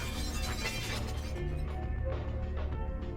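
Glass shatters in the game Vampire: The Masquerade – Bloodlines, a loud, close crash whose fragments tinkle and scatter for a few seconds before dying away.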